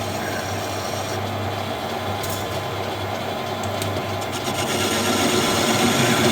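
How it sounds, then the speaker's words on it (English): A lathe tool breaking the sharp edge of a turned part for a handmade custom bike, a steady scraping, rasping rub with a constant low machine hum beneath, growing slightly louder toward the end. "I'm just going to break that edge"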